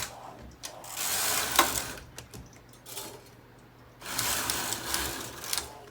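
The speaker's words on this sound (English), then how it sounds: "now I'm going to go on and knit 16 rows total" A knitting machine with a ribber knits rows, its carriage sliding in two long, close whirring and clattering passes separated by brief quieter clicks, with no voices.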